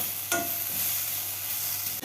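Tomato frying for a raw tomato chutney in a pan, a continuous close sizzle with a couple of sharp stirring scrapes near the start and end, no talking.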